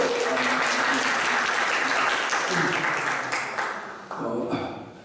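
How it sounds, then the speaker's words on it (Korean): A church congregation at a Baptist service claps together in sustained, loud applause for several seconds, with voices mixed in before it thins out toward the end. "와서 박수!"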